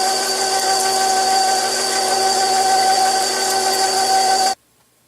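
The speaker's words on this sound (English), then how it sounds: "Now it's time to grind. I also placed the KitchenAid meat grinder in the freezer so it's nice and cool." A KitchenAid meat grinder attachment running on beef gives a loud, steady motor whine with tonal hum, close up and unbroken, then stops abruptly.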